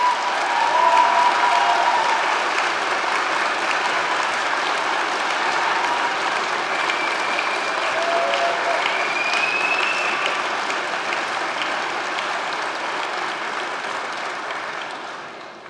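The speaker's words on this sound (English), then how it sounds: "let's give them a massive round of applause" A large crowd at a degree ceremony in Poole applauds family and friends, with dense, sustained clapping that holds steady for the whole stretch and slowly tapers near the end.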